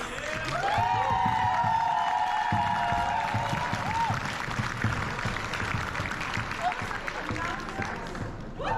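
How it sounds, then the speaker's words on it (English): Crowd at a roller derby event claps and cheers for the volunteers, a busy wash of applause with a whistle-like tone early on and voices mixed in. "Big applause for the volunteers."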